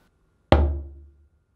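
A single bass stroke on a moderately tuned djembe gives a deep, round thump that fades out in under a second, heard alone.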